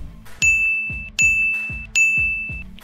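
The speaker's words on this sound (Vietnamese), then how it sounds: "Nhanh chóng, tiếng chuông báo của hệ thống dồn dập vang lên." A bright system notification chime in a narrated game story rings three times in quick, even succession, each clear ding ringing out briefly, with a low thump under each strike.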